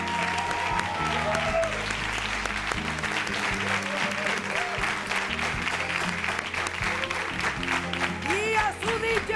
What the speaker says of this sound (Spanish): Vamos a darle una bienvenida y un fuerte aplauso